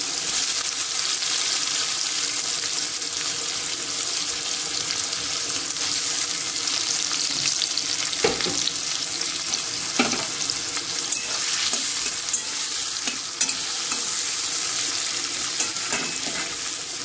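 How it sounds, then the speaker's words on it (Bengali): Potato pieces fry in oil already used for frying pumpkin, a continuous close sizzle broken by the occasional clack of a spatula stirring and scraping the pan, with no voices. "এই তেলেই আমি আলুটা দিয়ে দেবো।"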